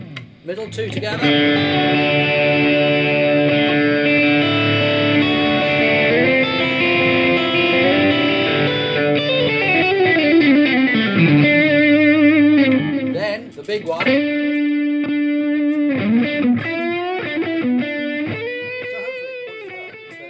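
Fender American Deluxe Telecaster with the middle and neck pickups selected together, loud sustained electric guitar chords and bending notes, a brief pause near thirteen seconds, then more ringing strums.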